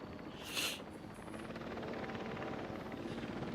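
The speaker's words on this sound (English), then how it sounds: "Like how that helicopter doesn't even land, and it's just like, well, we're off again." Helicopter in a dinosaur park video game flying steadily overhead, its rotor drone continuous and fairly loud with a brief brighter swell early on, heard alone without speech.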